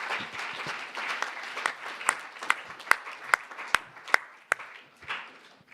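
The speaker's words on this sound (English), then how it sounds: "A round of applause for them as well." An audience at a judicial conference of the East African Court of Justice gives a round of applause, moderate steady clapping with a few sharp, distinct claps standing out near the front.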